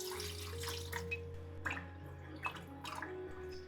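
Soaked wood ear fungus is rubbed and rinsed by hand in water for a home-style dish, giving a steady close trickle with small drips and splashes throughout.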